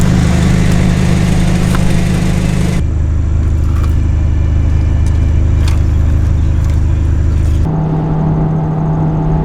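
A Toyota engine swapped into a Mazda runs loud and close, a steady rumbling idle whose tone shifts twice as revs change, with no voices over it.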